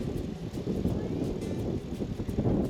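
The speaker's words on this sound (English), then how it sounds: "30k northwest winds with 50k gusts." Strong northwest wind, around 30 km/h with 50 km/h gusts, buffeting a microphone while cycling across Saskatchewan prairie: a constant loud low rumble with gusty fluctuations.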